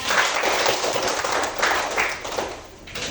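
A class of schoolchildren claps together, a dense, fairly loud patter of many hands that swells and eases over a few seconds.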